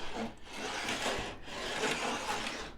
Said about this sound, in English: that noise it makes is that gear rubbing and the wheel rubbing up against that motor